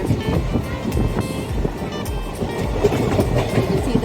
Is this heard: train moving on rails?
yes